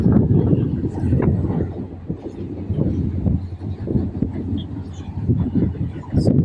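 Steady rumble and rattle of a train crossing the New Pamban Bridge, picking up speed, continuous and fairly loud, with some wind buffeting over it.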